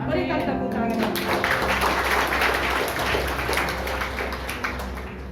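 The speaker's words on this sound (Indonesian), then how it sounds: "Berikan tepuk tangan." Church congregation applauding during an Indonesian sermon, a sustained wash of clapping at steady loudness across the whole stretch, with a voice and low tones beneath it.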